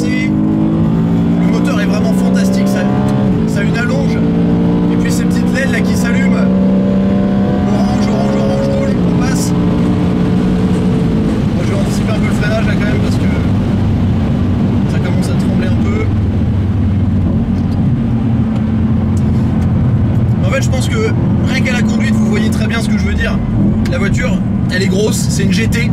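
A powerful BMW M3 E92 engine revs and climbs through the gears on a race track, rising in pitch before dropping at each shift, loud and close with a voice talking over it.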